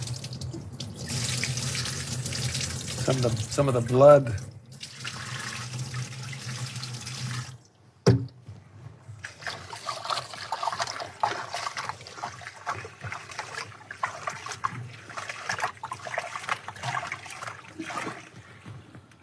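Tap water running and splashing as raw chicken pieces are rinsed in a large bowl, a steady close gush that stops midway, then softer sloshing and trickles, with a brief spoken remark.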